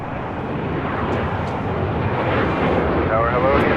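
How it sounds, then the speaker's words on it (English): A jet airliner roaring down the runway on takeoff at Los Angeles International Airport, a broad, sustained engine rumble heard from a distance that grows slightly louder throughout, with faint voices underneath. "Oh, look at this takeoff."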